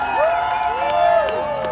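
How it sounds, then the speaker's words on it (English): A Chicago crowd cheers for Golden Knights parachutists, a broad, steady roar of voices at moderate distance with an announcer's voice carrying over it. "always seem to fly better when they can hear the roar of a Chicago crowd"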